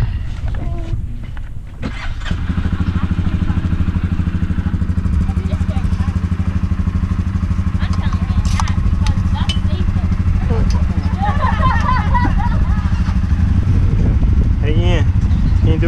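An ATV drives through mud in Jamaica with a loud, steady engine drone close by after a brief quieter start, and voices can be heard over it.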